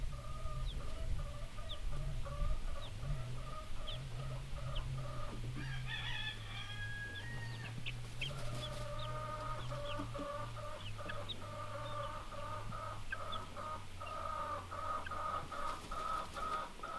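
Icelandic chickens clucking steadily throughout a flock, with low continuous murmuring clucks and a few higher squawks and calls mixed in, fairly close and unbroken over the whole stretch.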